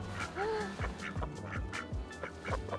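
A duck quacks up close among chickens, a series of nasal quacks in an uneven rhythm over a busy, noisy background.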